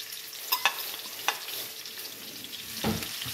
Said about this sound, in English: So that's the yellow onion that I'm putting in right now.